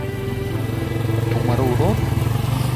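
Motorcycle engine idling and then revving up, a steady throbbing rumble close by that rises in pitch partway through, with a voice briefly audible over it.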